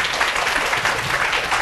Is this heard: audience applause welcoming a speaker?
yes